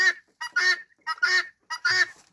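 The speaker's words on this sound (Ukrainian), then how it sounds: "це моя цесарка кричить, не дає слова сказати" A guinea fowl calls loudly and close by: three bursts of harsh, rapid, repeated cries separated by short pauses.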